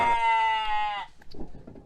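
Sheep and lambs on a farm, a single drawn-out bleat lasting about a second, fairly close and clear, followed by softer scattered noises.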